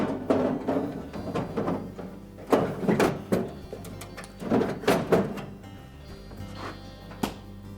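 An ice bin pushed back into a Frigidaire refrigerator freezer, a series of close plastic sliding rumbles and clunks in uneven bursts, finishing with a sharp knock as it seats.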